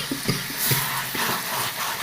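Chicken with spices and potato being stirred and sautéed in a pan, short scraping strokes of a spoon over a soft sizzle, close and moderately loud, no talking.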